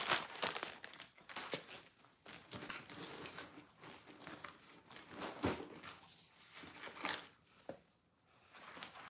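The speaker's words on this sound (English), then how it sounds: "Get you a Ziploc bag." A Ziploc plastic bag crinkles and rustles continuously in close, fairly quiet handling during fishing tackle prep, with irregular bursts of crackling over several seconds.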